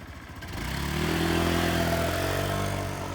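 A 2016 Honda PCX150 automatic motor scooter pulling away, its engine rising from quiet to a steady, moderate drone with climbing tone that holds as it moves off.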